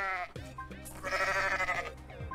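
A goat in the video game Goat Simulator on Nintendo Switch bleats in a long, wavering, clear cry that dominates the moment without talking over it.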